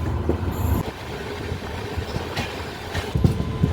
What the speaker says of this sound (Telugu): Guntur intercity super fast